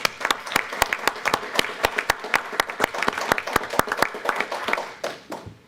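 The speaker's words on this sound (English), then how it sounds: "I would like to give her flowers by giving her a round of applause" Applause fills a school board meeting with many sharp claps from a crowd, a dense, steady patter that thins and fades near the end.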